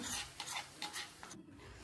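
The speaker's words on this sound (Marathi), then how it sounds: "आता ही फोडणी आपण ह्या गाजराच्या चटणीमध्ये घालत आहोत" Hot tempering of mustard seeds, cumin, finely chopped green chilies and curry leaves is poured into Maharashtrian carrot chutney, giving a faint crackling sizzle and stir with a few soft bursts before it quickly dies away.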